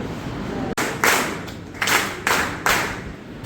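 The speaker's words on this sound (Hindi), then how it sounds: "बीच में ना छोटी सी छोटी ताली बज रही है।" Small, scattered claps from a few people in a classroom: a sharp single clap, then several short, uneven bursts of light clapping at irregular intervals, close and fairly loud, with no talking.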